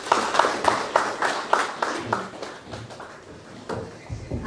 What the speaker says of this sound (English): I see the loudest roar of applause was reserved for Mr. Sachin Khurana